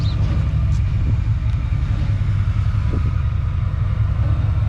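A 1952 Ford rat rod drives along with a loud, continuous low engine rumble, a loose bumper rattling faintly somewhere in the mix.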